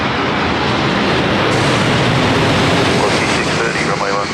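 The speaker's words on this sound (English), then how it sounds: "United coming over our heads, you can hear that" A United airliner passes overhead near Sydney Airport, a loud, steady broadband jet roar filling the whole stretch, close and continuous, with voices faintly mixed in.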